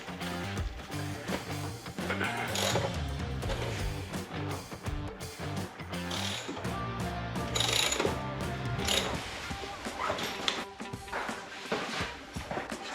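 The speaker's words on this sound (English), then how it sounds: "Now let's tighten it with the big wrench." A big ratchet wrench tightening a buggy wheel during a tire change, giving repeated clicking and ratcheting bursts at close range with metallic clunks in between.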